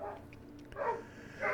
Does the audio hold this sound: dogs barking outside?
yes